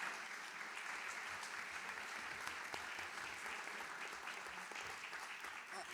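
Applause in a French town council chamber at the election of the mayor and deputies, a steady, distant, fairly soft patter of many hands that holds evenly throughout.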